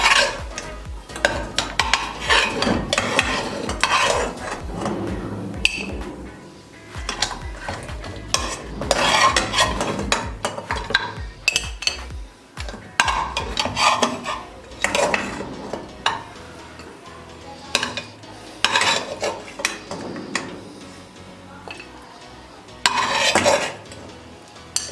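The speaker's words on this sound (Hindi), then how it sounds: "अब इनको एक प्लेट में निकाल लेंगे।" Mutton chops are lifted out of a pan onto a plate, with repeated metal utensil scrapes, clinks and pan clatter over a faint sizzle, close and continuous with no talk.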